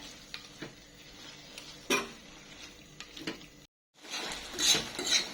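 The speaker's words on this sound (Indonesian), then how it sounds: "Sekarang kita aduk-aduk." Sambal ijo, Padang-style green chili sambal, being stirred in a pan, with scattered scrapes and clinks of a utensil against the metal and a soft sizzle, a loud cluster of rattling near the end after a brief pause.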